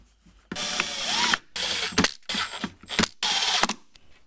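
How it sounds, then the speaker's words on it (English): A drill gun driving self-tapping Phillips screws while installing a wireless phone charging kit in a GM vehicle, several short bursts of whirring and ratcheting separated by brief pauses, close and loud. "If you're using a drill gun like I am, be careful"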